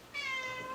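A cat gives a single short meow, faint and in the background, a brief plaintive cry in an otherwise quiet room.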